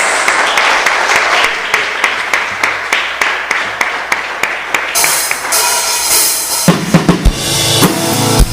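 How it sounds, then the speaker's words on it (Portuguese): Church congregation claps together during a service, a run of rhythmic evenly spaced claps that swells into louder, busier applause with scattered sharp hits near the end. "E nós queremos agora, Senhor, aplaudir a Ti com força"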